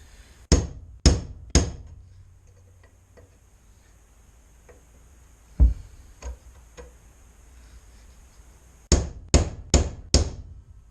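Sharp metal hammer blows ring out close by as a bushing on a 1979–95 full-size Chevy GMC van is driven. They come in quick bursts of three near the start, scattered single strikes in the middle and a final run of four.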